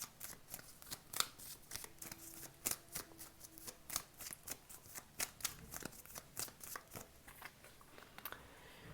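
Tarot cards are shuffled by hand in soft, repeated riffling bursts and light snaps, quiet and close, with a brief faint tone partway through.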